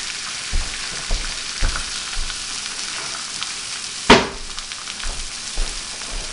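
An egg sizzles steadily in a hot pan, a constant bright hiss broken by a few soft taps and one sharp clatter midway, with no one talking.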